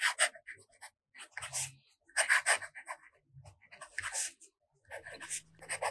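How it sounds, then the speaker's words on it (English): A Platinum 3776 fountain pen with a music nib scratches across reporter pad paper in short, quiet bursts of strokes separated by brief pauses, close and alone. "The next writing sample is done on a WritePad's reporter pad."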